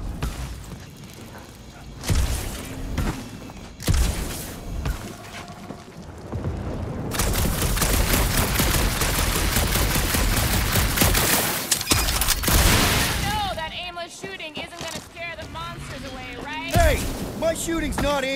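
Gunfire in the Marvel's Guardians of the Galaxy video game, bursts of booming shots and a sustained dense volley mixed with game effects, loud and close, with character dialogue over parts of it.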